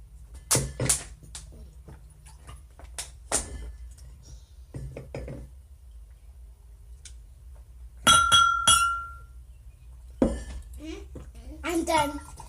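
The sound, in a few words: drinking glasses clinking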